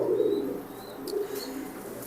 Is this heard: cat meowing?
no